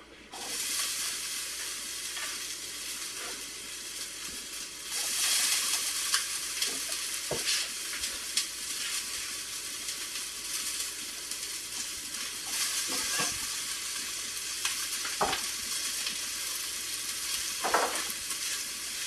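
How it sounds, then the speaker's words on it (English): Vegetables hit a hot frying pan for a chicken sofrito and sizzle loudly and steadily, the hiss swelling as more go in, with occasional stirring scrapes and clinks under the constant frying. "I'm going to add the vegetables now"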